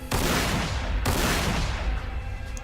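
Gunfire from the Warhammer 40,000 Sanctus Reach strategy game: two heavy, close, loud volleys, the second about a second after the first, each a dense burst that rumbles and fades slowly into the next, with no voices.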